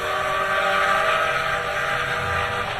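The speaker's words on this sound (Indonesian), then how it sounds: "muncullah kereta api berbahan bakar uap" A loud, steady steam train whistle blows continuously for the whole stretch, a bright shrill tone held without a break over a rumbling background.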